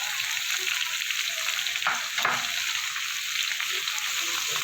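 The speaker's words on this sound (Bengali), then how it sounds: "এবার ঝিঙেটা দিয়ে আরও কিছুক্ষণ একটু নাড়াচাড়া করে নেব।" Ridge gourd and potato pieces are stirred in a hot pan of oil, giving a constant close sizzle with occasional scraping strokes from the spoon.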